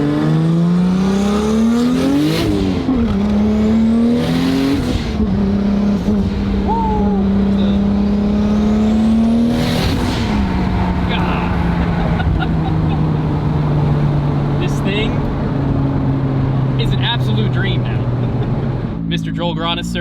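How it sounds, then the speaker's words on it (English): An 800 horsepower 2JZ-powered Nissan 240SX with a six-speed manual drones loudly from close by as it is driven, its engine note rising and dropping sharply through gear changes and downshifts before settling into a steady lower cruise. "Downshift to 4th, 3rd, easy. Rolling in 3rd."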